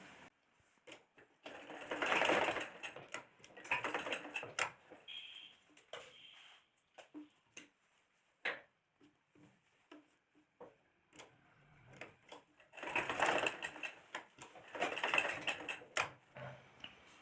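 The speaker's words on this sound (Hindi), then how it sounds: "ये यहाँ से इस तरह से सिलाई लगाना है और दूसरे साइड भी इसी तरह से सिलाई लगा लेना है" A sewing machine stitches the side seams of a small pajama in two bursts of rapid mechanical whirring, with quieter clicks and handling sounds between them, close up.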